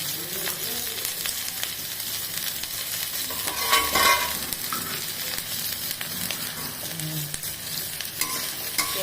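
Onion and garlic frying with black cumin, a dense continuous sizzle with stirring scrapes mixed through it and one louder burst midway.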